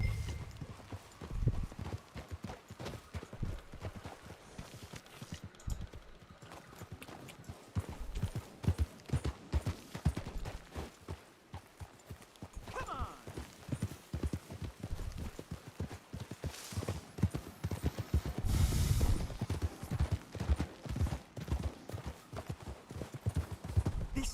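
Horse hooves clip-clop in a steady, brisk rhythm in Red Dead Redemption 2, the hoofbeats close and continuous for the whole stretch and swelling louder toward the end.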